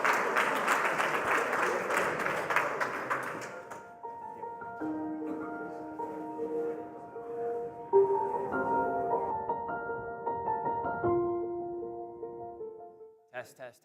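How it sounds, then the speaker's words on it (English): A conference audience at Bitcoin Day Naples gives a round of applause for a few seconds, dense and fairly close, before it fades into sustained musical tones. "Give him a nice round of applause"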